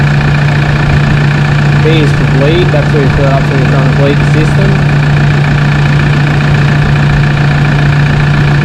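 A Toyota Hilux with a 1KD diesel engine idles steadily and loudly throughout with a constant low drone, while someone talks over it.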